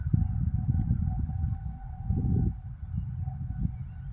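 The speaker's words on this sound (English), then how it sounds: "This is tornado test with the Knopfs." A tornado warning siren on its monthly test holds a steady wailing tone in the distance, with wind-like low rumble and a bird chirping faintly on a rainy day.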